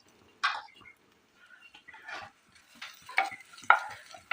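Ginger-garlic paste fries in a spoonful of oil, with short bursts of spoon-scraping stirs and light sizzle close by, separated by near-silent pauses.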